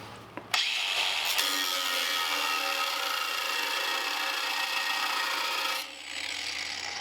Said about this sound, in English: So we're just gonna cut this off kind of flat like that.